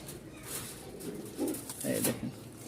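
A male Giribaj pigeon coos in a couple of low, throaty bursts, close and moderately loud over a steady background murmur.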